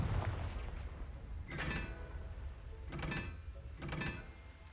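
The Confringo spell fires in Hogwarts Legacy: three loud, bursting blasts about a second and a half apart, each a short whooshing explosion over a dull rumbling background.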